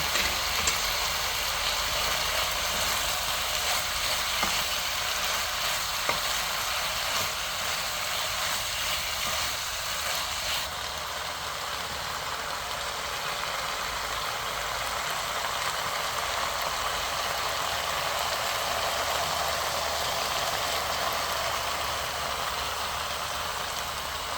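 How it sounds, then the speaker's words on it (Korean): Spicy marinated pork stir-fried with green onion and onion in a hot pan, a steady unbroken hiss of sizzling that stays close and even for the whole stretch, with no voices. "파하고 양파하고 다시 한 번 넣고 또 볶아주세요"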